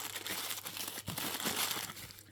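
Paper crinkling and rustling close by in short bursts, with a few sharper crackles, no voices.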